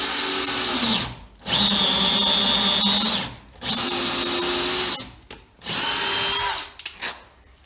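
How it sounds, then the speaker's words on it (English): Power drill boring a series of holes into wood for a barn door latch, four close bursts of whining motor with pitch dipping under load, separated by short gaps. "I'm just going to hog out a bunch of holes"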